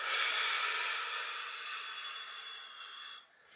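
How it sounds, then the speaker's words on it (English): Close, breathy exhale during a seated chair core and pelvic floor exercise: one long airy hiss that slowly fades over about three seconds before trailing off. "Breathing in to relax and release. Breathing out."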